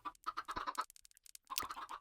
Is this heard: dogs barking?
no